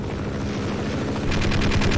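A helicopter in the video game Half-Life sounds close and loud, with thudding rotor chop and a rapid pulsing beat that grows stronger partway through.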